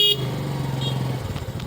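A motorcycle on a narrow road between barangay Sinag and barangay Tamis gives a brief horn toot, and its engine then keeps running steadily and close by.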